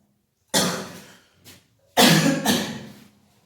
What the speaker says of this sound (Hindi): सॉरी, खांसी है, कोरोना नहीं है